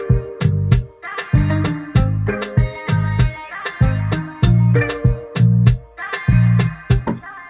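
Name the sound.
sliced vocal loop pitched up in a beat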